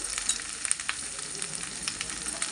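Onions frying in hot oil along with dried prawns make a brief, even hiss of sizzling at moderate distance, with faint stirring textures and small crackles.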